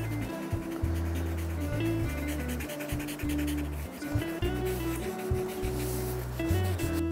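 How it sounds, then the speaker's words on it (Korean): A conte crayon is laid flat and rubbed across paper to shade a croquis figure drawing, making a soft, close, steady scratchy rubbing in repeated strokes, with no talk. "찰피를 눕히면 전체 면적으로 부드럽게 깔 수가 있죠"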